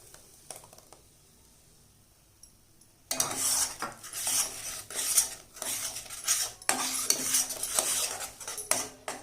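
Ground tomato paste sautéing with onion masala for a restaurant-style matar gravy, heard as quiet then sudden clattering spoon scrapes and metallic taps against the pan, repeated in close, busy bursts.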